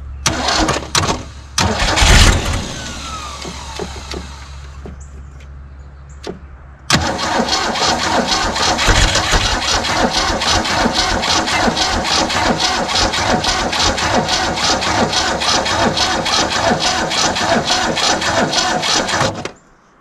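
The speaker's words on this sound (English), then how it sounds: "Let's see if she won't fire this time without starting a fire." A 1969 Ford Falcon engine cranks with a starter whir, then catches and runs at a loud, steady, rhythmic idle that continues until the end, close up, with little talking.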